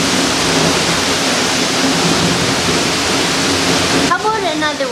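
Water trickles and spatters onto a piece of tin deep inside a mine, a steady close hiss of falling droplets that fills the space before fading into a quieter echoing drip near the end.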